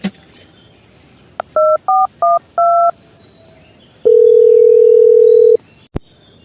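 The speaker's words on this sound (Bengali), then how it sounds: "একটু ফোনটা করি" Four short touch-tone beeps sound in quick succession, followed by a longer steady tone and a sharp click, clear and close.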